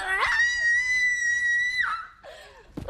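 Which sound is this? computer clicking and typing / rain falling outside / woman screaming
woman screaming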